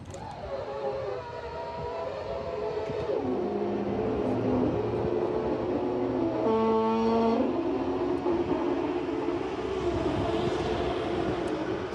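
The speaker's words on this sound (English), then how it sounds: "Normally you have the engine running when you lower the lift so it doesn't flatten the battery." Commercial truck with its engine running while the tail lift lowers, a steady loud mechanical drone with a rising whine of the lift motor in the middle, no talk.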